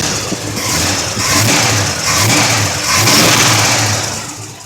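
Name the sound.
Chevy truck engine revving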